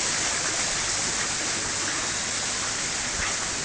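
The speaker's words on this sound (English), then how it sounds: "Here's the fish pond, the koi pond. Lots of beautiful fish. Waterfall." A waterfall pours beside a koi pond on a farm, a dense, continuous rushing hiss that is close and steady and fills the whole stretch with no voices.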